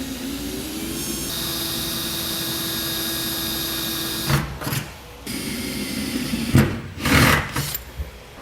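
A power drill bores a hole through the bed of a 2017 Ram 2500 pickup truck, running as a steady whine for several seconds, then in short bursts.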